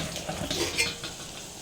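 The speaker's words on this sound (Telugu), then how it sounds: "వంకాయ ముక్కలు వేసుకున్నాక ఒకసారి మిక్స్ చేసుకుందాము." Eggplant and okra pieces frying in a pan with onion while being stirred, a steady close sizzle with soft scraping and light clinks of a utensil against the pan, no talking.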